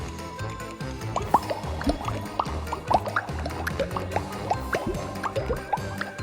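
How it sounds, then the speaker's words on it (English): Thick slime being stirred in a bowl after baking soda and contact solution are mixed in, giving soft wet squishes and small dripping plops in an uneven, busy rhythm, close and moderately loud. "and then we stir, stir, stir."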